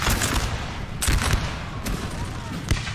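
Musket volleys crackle through a Napoleon Total War battle, with dense bursts of gunfire peaking around the one-second mark and again near the end over a constant rumbling din of distant shots.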